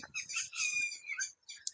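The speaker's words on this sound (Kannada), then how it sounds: "ಅವ್ರಿಗೆ ಪಕ್ಷಿಗಳು ಕೂಗ್ತಾವೆ" Birds chirp and call outdoors in a quick run of bright, high, fairly faint tweets with short pauses between them, and no talking.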